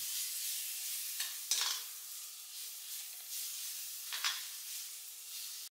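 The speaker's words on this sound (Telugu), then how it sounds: "ఫ్రెష్గా దంచుకున్నటువంటి 2 టేబుల్ స్పూన్ల అల్లం వెల్లుల్లి పేస్ట్ వేస్తున్నాను." Ginger garlic paste sizzles and fries with onions in a hot pan for biryani, a steady hiss broken by a few louder stirring scrapes, close and continuous with no talk.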